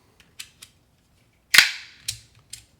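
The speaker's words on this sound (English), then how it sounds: "So that's just a loud, clacky, beautiful triple stack slider." A triple stack fidget slider from Otter EDC gives sharp, loud clacks: a few light ticks, then a hard snap and two more clicks, close up with no talk.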